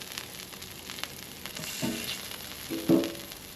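Burger patties topped with cheese sizzle and fry on a hot cooking surface, a soft, steady crackle broken by a few brief louder hisses and scrapes, with no voices.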